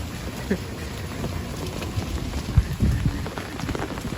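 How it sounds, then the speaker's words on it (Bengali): Steady, dense rain hiss fills the whole stretch, with a few louder thuds and splashes breaking through near the end. "প্রচুর প্রচুর বৃষ্টি"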